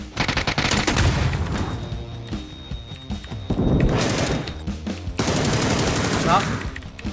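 Rapid automatic gunfire in the battle-royale video game PUBG, loud bursts of shots crackling in close succession through most of the stretch, with a player's voice talking over the shooting.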